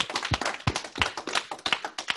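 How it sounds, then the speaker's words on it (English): Audience clapping at a training session, with irregular hand claps and taps fairly close and loud, filling the whole moment without voices. "give yourselves a round of applause."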